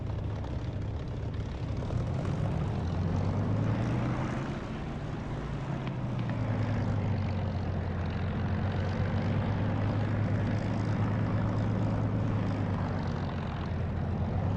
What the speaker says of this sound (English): that extra little bit of volume is where you get reflected engine sound off the runway